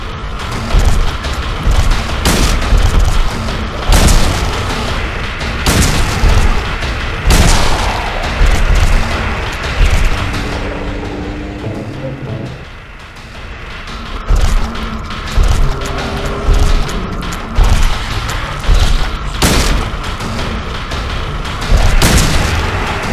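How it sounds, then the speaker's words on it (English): A rifle fires in Silent Hill 2: loud, booming single shots spaced a few seconds apart, each with a heavy reverberant tail over a constant rumbling ambience, with a short quieter stretch midway. "Let's test out our new rifle."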